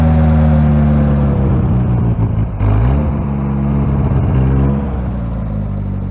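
A Warn M8000 winch motor strains steadily while pulling a Willys Jeep CJ5, its loud continuous whine sagging and slowing as the battery weakens, with no voices over it.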